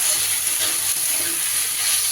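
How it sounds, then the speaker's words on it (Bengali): Sliced onion frying in a pan with ginger, garlic and green chili paste while being stirred, a loud continuous close sizzle and hiss for about two seconds, with no talk. "এবার এই পেঁয়াজের ওপরে দিয়ে দিচ্ছি 1 টেবিল চামচ আদা রসুন আর কাঁচা লঙ্কা বাটা। আদা রসুনের গন্ধটা না যাওয়া পর্যন্ত ভালো করে নেড়ে নেব।"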